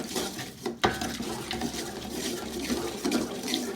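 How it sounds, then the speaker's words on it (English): Hand-stirring a homemade hair conditioner mixture as it melts, with steady scraping and clinking of a utensil against a pot, continuous and fairly close, no talking. "So I'll keep stirring and it will be melting up."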